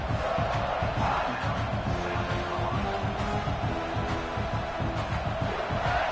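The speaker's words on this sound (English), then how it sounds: "The crowd really making some noise now, trying to help out this defense to get this stop near the goal line." Football stadium crowd roaring near the goal line, a dense sustained wall of cheering and yelling with scattered whoops, constant and loud throughout.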